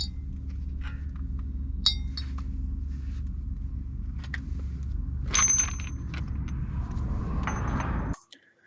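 Needle-nose pliers pull a cotter pin from the front CV axle of a Lexus GX 470, giving faint, sparse metallic clinks over a steady low hum that stops abruptly at the end.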